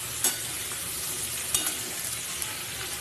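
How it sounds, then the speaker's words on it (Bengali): Vegetables, pointed gourd and ridge gourd for a vegetarian dish, fry in a pan with a close, continuous sizzle broken by a few sharp scrapes and taps of stirring, with no talking. "এটা একটু ভাজা ভাজা হলে এর মধ্যে নুন আর হলুদটা দিয়ে আবার ভাজবো"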